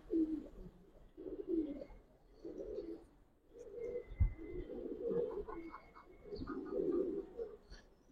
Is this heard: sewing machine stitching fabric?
no